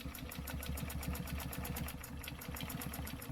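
A sewing machine stitches a quilt along a stencil line, its needle running in a fast, steady mechanical rhythm with a low motor hum throughout, fairly close and uninterrupted.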